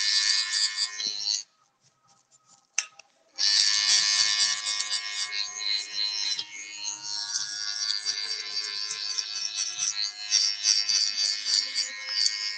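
Electric hair clippers fitted with a one guard buzz close up during a live haircut demonstration, a steady whine that cuts out briefly, restarts, and keeps running with slight wavering as it moves through hair.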